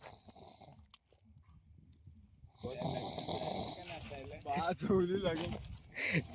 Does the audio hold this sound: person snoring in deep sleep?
yes